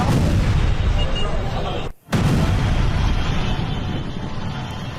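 A loud, sustained roaring blast at a residential building in Lebanon, with a sudden cut to near-silence midway, then the rumbling roar resumes and slowly fades.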